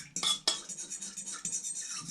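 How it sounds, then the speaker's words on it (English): Fork stirring yeast and honey in a bowl for bread dough, a few quick metallic clinks and scrapes against the dish, close and fairly quiet, with a sharper tap near the start. "We're just going to stir it around with a fork."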